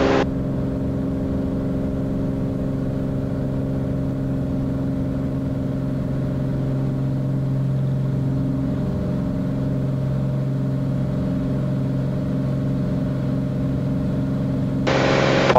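Beechcraft Bonanza piston engine during its takeoff roll, a loud steady droning hum with strong tonal harmonics held at constant power throughout, heard from inside the cabin with no talking.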